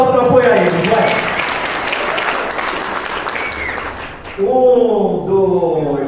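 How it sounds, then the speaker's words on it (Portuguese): A lecture audience claps to cheer on participants, a dense burst of applause that swells and then fades, with a voice speaking over the start and talk resuming once it dies down. "Turma, uma salva de palmas para apoiar eles, vai!"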